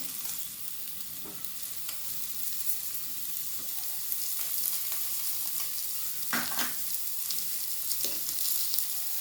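A steady sizzle of chopped tomatoes frying in a pan with onion and garlic, with occasional stirring scrapes and bursts of crackle, close up and without speech.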